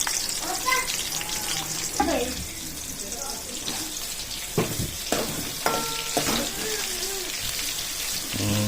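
Onions and green chillies fry in a spiced tempering with a soft, steady sizzle and scattered clinks of stirring.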